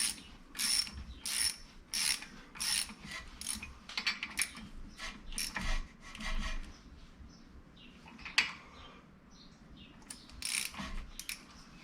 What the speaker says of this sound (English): you can use a pair of jacking screws to pop the rotor off. They take a 13 millimeter socket